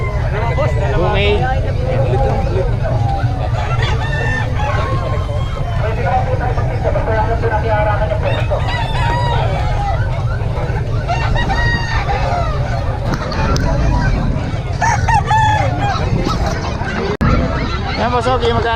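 Chickens and roosters crowing and clucking at a bustling chicken market in Bocaue, several crows rising over a constant babble of voices and nearby talk, with an occasional honk.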